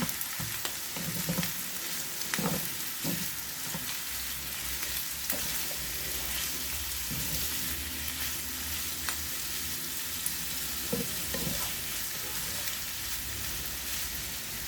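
Buttered chicken pastel frying in a pan over low heat, a steady soft sizzle with intermittent scraping stir strokes throughout, fairly close and continuous with no talk.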